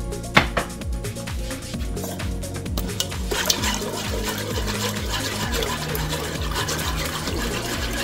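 Cups of water are poured into a pot of steak soup, with close splashing and gurgling liquid that runs continuously, plus a few clinks from the cup at the start.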